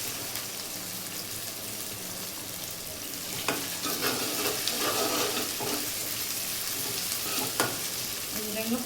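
Ginger paste frying in a pan with a constant loud sizzle, and stirring scrapes now and then across the hiss.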